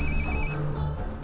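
A telephone rings with a bright electronic warble that repeats briefly and then fades into room noise, heard alone without talk.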